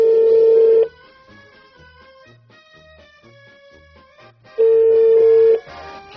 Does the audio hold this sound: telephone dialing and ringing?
yes